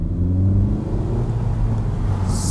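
A Honda Civic FK7 fitted with a custom air intake accelerating on a road, a loud, close engine drone rising in pitch, heard from inside the car.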